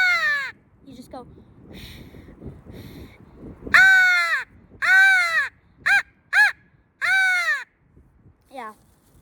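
Brief low talk, then a person uses a crow call to mimic crow cawing with loud, close, raspy calls, a mix of long caws and short rapid pairs.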